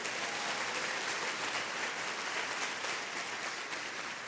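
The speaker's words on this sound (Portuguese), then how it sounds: "Queria que você aplaudisse Jesus." A church congregation applauds together, a dense, even wash of clapping that holds steady for a few seconds at moderate volume, with no voices over it.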